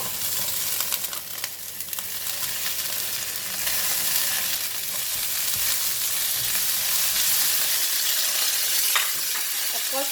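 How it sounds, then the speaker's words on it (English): French beans stir-fried in garlic and dried shrimp oil in a hot pan, a loud continuous sizzle and hiss with occasional scraping stirs, steady throughout without talk. "I'm going to fry the beans."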